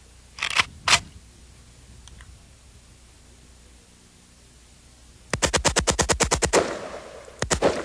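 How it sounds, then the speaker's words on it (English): An AK-47 fires on full automatic: two separate sharp shots first, then after a pause a rapid burst of about a dozen loud cracks in quick rhythm, followed by a few more quick rounds. "It's an AK-47. Primary feature is with one pull of the trigger, it will fire repeatedly."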